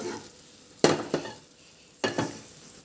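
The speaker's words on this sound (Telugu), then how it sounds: "ఇప్పుడు మనము డ్రై ఫ్రూట్స్ వేయించుకుందాము" Dry fruits roasting in ghee in a pan for sago halwa, a soft steady sizzle broken by a few sharp spoon scrapes and clinks against the pan, close and without talk.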